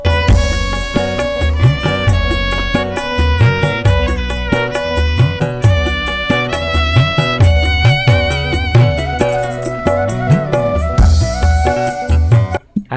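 Kendang hand drums, mixed within a full dangdut arrangement, thump in a steady, bouncing rhythm beneath loud melodic instruments, with the drum strokes prominent throughout.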